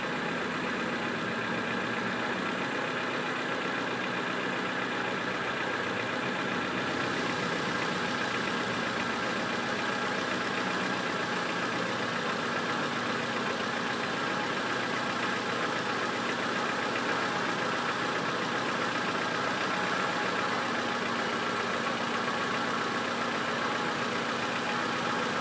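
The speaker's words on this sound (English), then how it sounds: "this is a 1994 Honda Civic" A 1994 Honda Civic with a 1.6-litre engine idles steadily, giving a constant mid-range hum with a faint knocking texture that runs unchanged throughout, with no voices over it.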